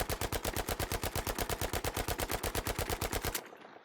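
Sustained automatic fire from a ZK rifle in Battlefield V, a rapid steady stream of sharp shots for over three seconds, loud and close, then stopping abruptly with a brief tail.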